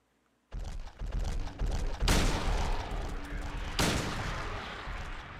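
Rifle gunfire in a video game: a dense run of loud, near shots and bursts with two especially sharp, heavy reports standing out, continuing without talk.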